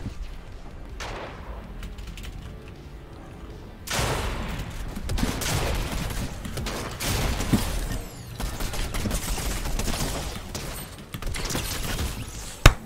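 Gunfire in Fortnite, played as rapid bursts of shots and loud cracks that come back again and again over steady game noise, near and dense, with short lulls between volleys.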